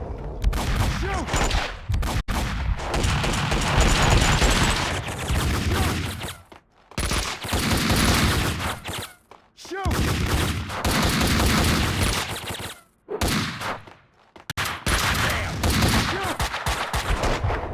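Gunfire in the Max Payne 2 action game: loud, rapid bursts of shots and fusillades in several long runs, separated by brief near-silent gaps.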